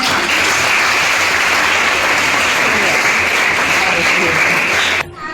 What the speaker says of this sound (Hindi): तालियों के साथ स्वागत करें उनका